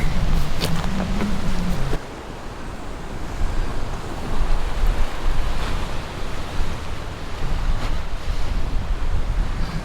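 Steady wind and breaking ocean surf roar along the rugged shore at Kaʻena Point, O‘ahu. The wash is loud and continuous, with heavy wind buffeting the microphone.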